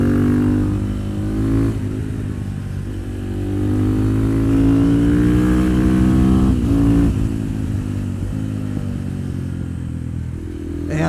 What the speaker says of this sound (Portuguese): E esta moto para fazer estes trajetos é do melhor.